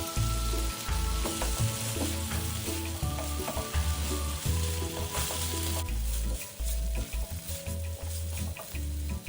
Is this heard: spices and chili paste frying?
yes